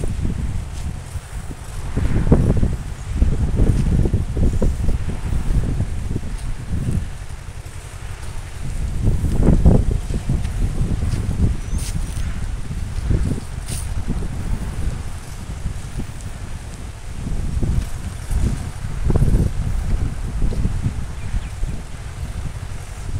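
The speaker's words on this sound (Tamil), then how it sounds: "தம்பி டிராக்டர் வச்சு உழுதுட்டுருக்கான்." A tractor ploughs between the rows of a banana farm, giving a steady low rumble that goes on for the whole stretch, with wind and rustling over it and no talking.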